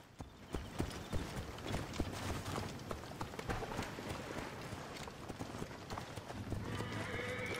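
Donkey hooves clop in a steady walking rhythm on the ground in the video game Assassin's Creed Origins, close and clear over faint ambient game sound.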